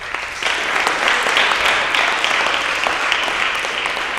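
A crowd applauds school athletes at a fall awards assembly for 7th and 8th grade sports teams, a steady dense clapping that holds evenly throughout with no voices breaking through.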